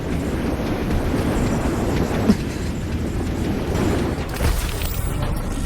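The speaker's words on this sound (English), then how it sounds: "What's a Night City train doing behind a door?" A futuristic Night City train in the video game Wuthering Waves rumbles past behind a door, a loud continuous rolling clatter with a low roar and a brief thump midway.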